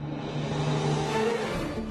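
An Audi R8 e-tron electric sports car drives on a race track with a steady, loud electric whir and tonal hum that holds throughout, with no talk.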